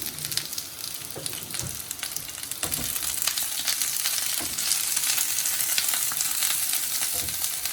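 Masala sizzles and fries loudly in oil in a pot for bhindi ka salan with mutton, a dense steady crackle broken by repeated scraping stirs, with no voices.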